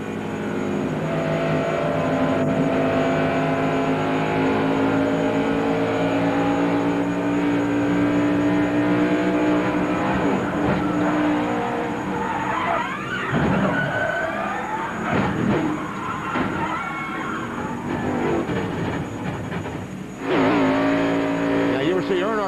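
Onboard sound from Ward Burton's race car at the 2000 Pennzoil 400, a loud droning engine with rising and falling pitch as the throttle is eased, while a commentator talks over it.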